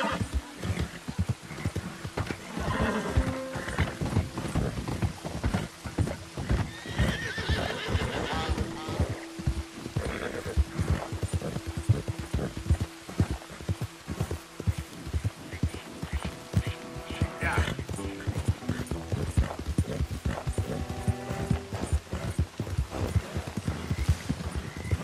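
In the video game Red Dead Redemption 2, a horse's hooves clip-clop in a fast, steady galloping rhythm throughout, with occasional snorts and whinnies and some game sounds mixed in.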